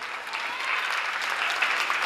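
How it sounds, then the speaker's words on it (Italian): Audience applause at a dance school recital, a steady, even wash of many hands clapping at moderate volume, continuous throughout with no talk over it. "facciamo ancora un grande applauso"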